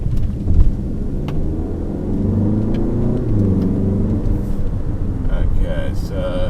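A Chery Tiggo 8 Pro Max SUV accelerates in eco mode, its engine a steady, rising rumble heard from inside the cabin, with a brief thump early on and a voice talking over it.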